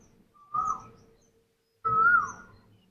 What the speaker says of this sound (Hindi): पक्षियों का यह आवाज इतना बेस्ट लगता है।